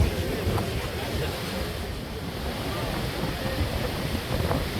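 Steady wind buffets the microphone in a constant low roar, with water washing faintly in the background.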